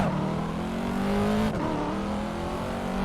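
Corvette C7 engine in Assetto Corsa racing game, a loud continuous drone climbing steadily in pitch as it accelerates, with a brief gear-shift dip midway, no voices over it.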